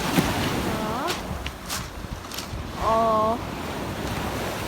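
Waves wash over a pebble beach at Jeongam Beach in Yangyang, Gangwon, a steady surf wash with wind noise throughout, while a voice speaks briefly over it.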